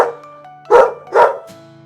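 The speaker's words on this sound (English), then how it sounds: "Yes, it's a dog." A dog gives two loud, close barks about half a second apart over a faint, steady tonal background.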